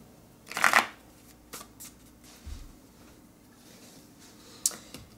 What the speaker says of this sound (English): doing our oracle shuffle today. So, shuffling away.